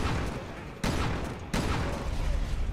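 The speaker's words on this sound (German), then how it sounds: "hier reißt einfach einen Shotgun-Schuss aus." In the video game Resident Evil Revelations 2, two sharp, loud shotgun blasts sound about a second apart, each followed by a brief rumbling tail.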